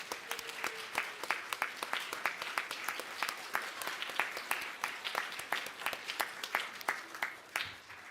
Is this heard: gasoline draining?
no